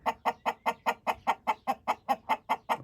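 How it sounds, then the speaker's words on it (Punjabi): Chickens and roosters clucking in a Pakistani village yard, a steady run of about fourteen evenly spaced clucks, close and clear, with no talking. "ਮੁਰਗੇ ਦੇਖੋ ਇਹ ਵੱਡੇ ਹੋ ਗਏ ਨੇ"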